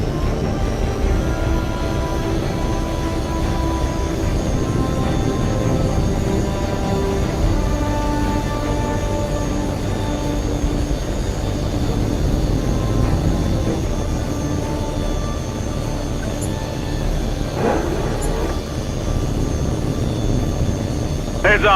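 A jet aircraft takes off in the flight game H.A.W.X. 2 with a continuous roaring engine drone that stays level for the whole stretch. Brief radio-style voices sound faintly beneath it.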